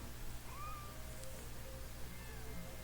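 A cat named Snowball meows in Genshin Impact, a few soft rising mews over a constant low background hum, quiet and close, with no one speaking.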